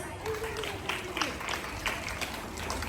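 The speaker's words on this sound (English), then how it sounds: "Please give them a huge round of applause" A school investiture ceremony crowd applauds, a soft, fairly distant rattle of many hands, quiet and steady, with a faint voice sliding through the start.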